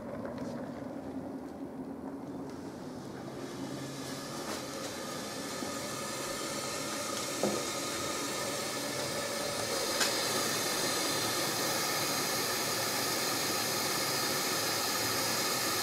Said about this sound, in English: or even getting your steam stripper out